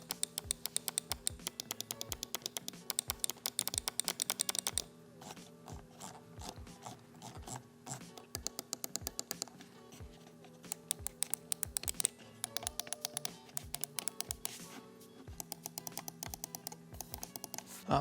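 A SteelSeries Rival 3 gaming mouse gives rapid bursts of crisp button clicks in fast steady runs, broken by short pauses and slower single clicks. The clicks are close and fairly quiet, with no talking.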